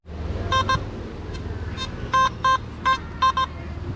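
A metal detector sounds a run of sharp electronic beeps in quick pairs and short bursts, fairly loud over a low background hum outdoors.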